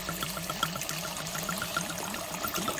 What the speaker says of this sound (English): I'm going to pour this whole entire bottle of Cabernet